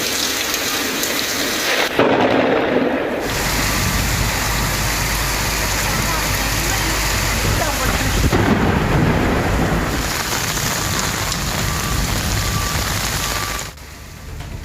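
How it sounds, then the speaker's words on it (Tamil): Heavy wind-driven rain pours across the suburbs of Chennai at Porur, Kattupakkam, Maduravoyal, Nerkundram and Virugambakkam, a loud, dense roar with gusting surges that stays constant throughout and eases slightly at the very end. "போரூர், காட்டுப்பாக்கம், மதுரவாயல், நெற்குன்றம், விருகம்பாக்கம் உள்ளிட்ட பகுதிகளில் காற்றுடன் மழை பெய்தது"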